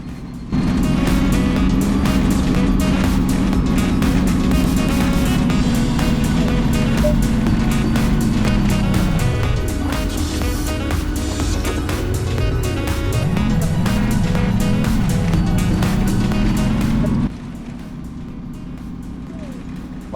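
A city bus drives through narrow streets in The Bus driving game, its loud engine droning steadily close by, dipping and climbing in pitch as it shifts and accelerates, then suddenly easing to a quieter idle near the end.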